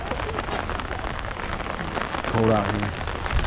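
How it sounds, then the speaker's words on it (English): Rain falling outdoors in Guatape, Colombia, a steady dense patter that continues throughout, with someone briefly speaking over it. "It is raining and it's cold."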